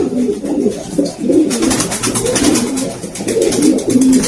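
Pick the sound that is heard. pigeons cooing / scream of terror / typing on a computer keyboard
pigeons cooing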